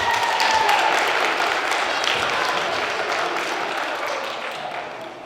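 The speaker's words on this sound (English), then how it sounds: "let's give them a nice round of applause" A school audience of students claps at a magic show in a dense, steady wash of applause that slowly fades toward the end, with no voices standing out.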